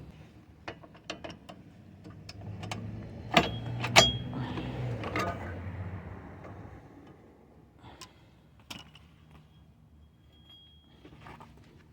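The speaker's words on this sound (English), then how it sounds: "I'm gonna try to remove the emergency brake cable here." Rear drum brake of a 2002–2006 Toyota Camry being worked on as the emergency brake cable is removed: scattered close metallic clicks, ratcheting ticks and small clanks, a brief denser clatter in the middle, then sparse taps.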